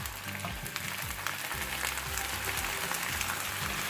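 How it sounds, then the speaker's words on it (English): Corned beef frying in a pan with browned onions, a loud, continuous sizzle and crackle with stirring and scraping underneath. "now that our onions are pretty decently browned, I'm going to go ahead and put our corned beef in here"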